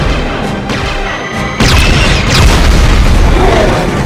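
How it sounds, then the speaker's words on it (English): Film explosions from Star Trek Nemesis (2002): a loud booming blast erupts partway through, followed by sustained crashing rumble and debris over a steady background roar. "I love the real explosions though. It looks great."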